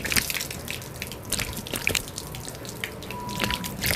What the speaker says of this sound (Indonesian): kalau semua ketujuh keran ini saya buka, akhirnya dapat kecil ya